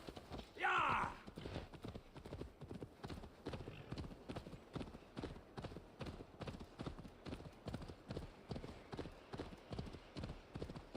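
Steady rhythmic clip-clop of horse hooves in a video game, moderately loud and continuous throughout, with a brief high neigh-like burst early on.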